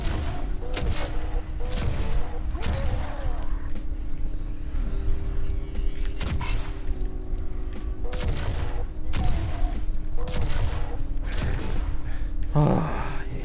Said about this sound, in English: Stop shooting at me, I can't even see where you are.